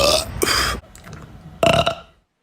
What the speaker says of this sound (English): when he burped, he made a G and an E, which is a minor third.